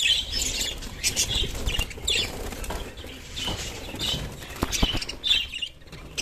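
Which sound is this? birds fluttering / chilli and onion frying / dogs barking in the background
birds fluttering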